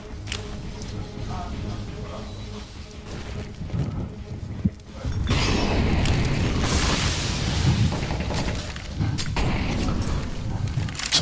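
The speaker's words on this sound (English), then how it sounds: "Some nades being traded," Grenades explode during a CS:GO match, with a sharp thud midway followed by a long, loud, rumbling blast and further bursts over a busy game backdrop.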